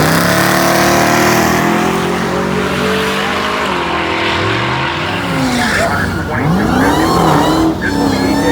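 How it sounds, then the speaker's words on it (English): Drag race cars rev and squeal their tires at a starting line at the Cordova dragstrip, engines rising and falling loudly, with a voice talking over the noise. "our first pair of cars is at the starting line right now"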